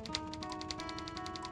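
Rapid, evenly spaced typewriter key clacks in the point-and-click adventure game Thimbleweed Park, a short quick run of taps over a faint steady hum, with no talking.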